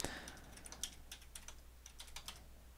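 Typing on a computer keyboard while entering router settings, a quick run of faint, close key clicks in an uneven rhythm, with no talking.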